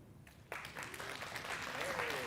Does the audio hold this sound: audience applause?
yes